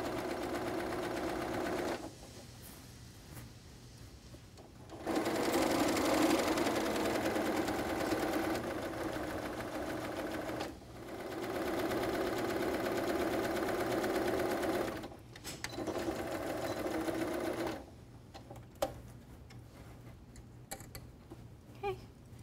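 A sewing machine understitches a facing close to the seam in several bursts of rapid, steady stitching separated by short pauses, quiet and close with no talking.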